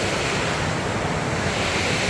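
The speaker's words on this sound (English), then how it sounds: "I'm not even sure if you can hear me with all this water." Creek water pouring over a small dam, a dense continuous rushing roar that fills the scene, close and loud with no let-up.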